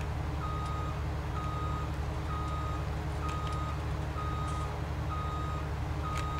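A combine harvester in Farming Simulator 19 backs up with its reversing alarm beeping steadily, evenly spaced tones over a constant low engine drone.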